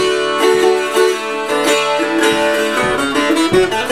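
Electric guitar strummed and picked with a hard blue 1.50 mm pick textured like the hook side of Velcro, giving bright, dense chords with crisp attacks, loud and close, with no talking.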